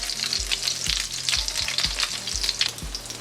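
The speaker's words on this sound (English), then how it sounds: "Okay, so here they're frying up." French toast sizzles steadily in a hot pan, with bright frying crackle over a few soft, regularly spaced low thumps.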